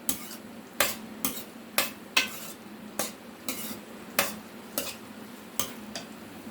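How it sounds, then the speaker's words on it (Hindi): Green chillies and tomatoes go into a frying pan with onions, stirred with a utensil that scrapes and taps the pan about ten times in a fairly steady rhythm over a soft background sizzle. "सब्ज़ मिर्चें डाल रही हूँ, टमाटर डाल रही हूँ,"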